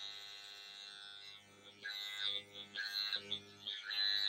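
A Dr Pen microneedling pen buzzes against facial skin at home, a steady high electric whine that wavers and stutters as it is moved, close and alone.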